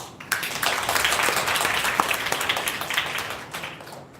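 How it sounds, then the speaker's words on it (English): Audience applause welcoming Dr. Eran Lee, the first speaker at a Seoul National University forum on North Korean forests, a steady wash of many hands clapping that starts abruptly and holds evenly near the listener. "let's welcome first speaker, Dr. Eran Lee, with both big applause"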